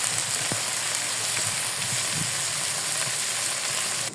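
A simple vegetable bhaji of sliced green chilli and chopped onion with oil and salt sizzles steadily in a pan, with a few soft stirring knocks. The frying hiss is close and continuous with no talking.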